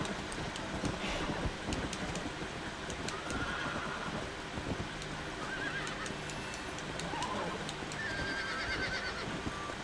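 Horse neighs and whinnies over steady clip-clopping hooves in the video game Red Dead Redemption 2, the gallop continuous and fairly loud with several whinnies across it, under a busy game soundscape.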